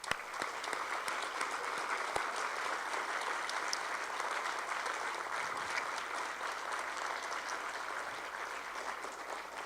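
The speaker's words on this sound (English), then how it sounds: "I'd like to have us all give them one last round of applause." A sustained round of applause at a school district board of education meeting, an even, moderately loud wash of clapping from the room lasting nearly ten seconds.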